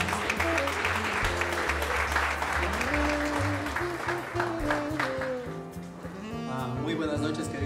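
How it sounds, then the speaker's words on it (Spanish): An audience at a Bolivian independence celebration in Toronto claps in welcome, a dense burst of applause that fades out over several seconds while music plays underneath. "Y bueno, den por favor un aplauso para la bienvenida de Cristian."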